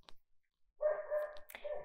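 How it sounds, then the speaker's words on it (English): A dog barks once briefly and faint near the start, then a louder sustained yelp or whine follows, close by and alone with no talk over it. "sorry about my dog."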